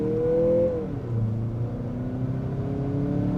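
A Mazda CX-50 SUV engine roars close by under full-throttle acceleration, its pitch climbing steadily as it revs up, a continuous loud drone with no talking.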